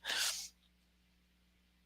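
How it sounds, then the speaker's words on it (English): A person sneezes once, a loud burst up close, followed by near silence with a faint low hum and a brief second sound at the very end. "Somebody just sneezed."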